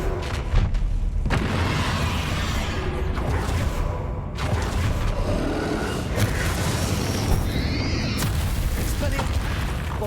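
The Confringo explosive spell in Hogwarts Legacy fires off with booming blasts and rumbling impacts amid dense combat noise, loud and near, with a voice calling out over it.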